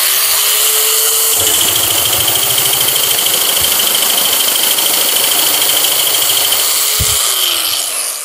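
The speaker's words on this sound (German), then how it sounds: "Wir haben hier ein 2 mm Blech und wir gehen durch." A nibbler cuts through 2 mm stainless steel sheet with a loud, steady motor whine and a fast, rattling chatter that holds for several seconds before winding down at the end.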